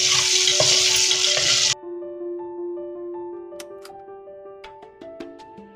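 Large potato pieces for aloo gobi curry fry in hot oil with a loud, dense sizzle for under two seconds. The sizzle then cuts off abruptly, leaving soft sustained musical tones and light plucked notes.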